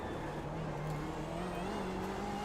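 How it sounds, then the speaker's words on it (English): Two BMW M8 race cars in iRacing decelerate together, their engines dropping in pitch with a steady, overlapping burbling drone, loud and close. "hearing two M8s decelerating at the same time is beautiful"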